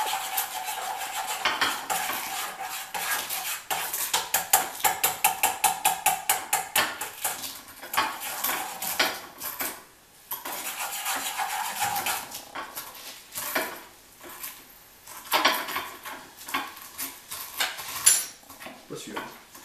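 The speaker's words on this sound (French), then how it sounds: "tu vas me pulvériser cet œuf en vraiment tout petits morceaux et le mélanger à la viande" An egg is crushed into tiny pieces and mixed with meat in a bowl for a tortoise pudding, first a rapid rhythmic burst of spoon taps against the bowl, then uneven scraping and stirring clatter, close and fairly loud.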